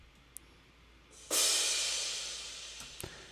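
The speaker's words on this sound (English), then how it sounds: "That's my favorite crash in Ableton." A stock Ableton crash cymbal from an electronic track rings out in a single bright hit that washes broadly and fades slowly over a couple of seconds, with a few faint ticks before and after.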